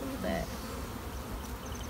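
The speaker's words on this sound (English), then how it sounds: "you can see it's pretty full of bees now already" Honeybees buzz densely in and around a full hive, a steady close drone with a brief higher whine early on, running unbroken through the short stretch.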